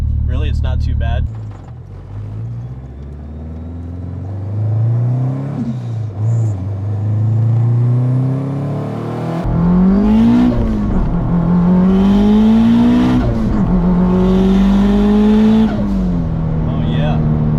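An STI-swapped Subaru Forester with an external wastegate and triple disc clutch revs up repeatedly from inside the cabin, each pull rising in pitch before dropping back, loud and close, with people talking alongside.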